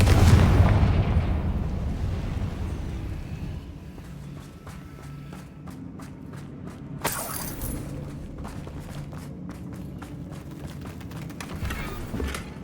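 Confringo fire spell blasts in the Hogwarts Legacy video game, a loud burst at the start fading into rumble, then a sharp crackling impact midway followed by scattered debris clatter, with no talk.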